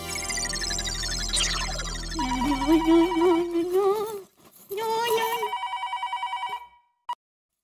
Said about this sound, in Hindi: किसको फोन कर रहे हैं? दया को।